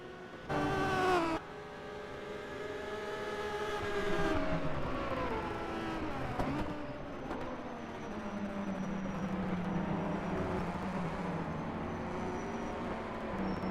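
Maserati historic race cars battling on the Longford circuit, with a loud engine blast early on and then engine notes climbing and falling as the cars pass and accelerate, heard from trackside at a moderate distance with no talking.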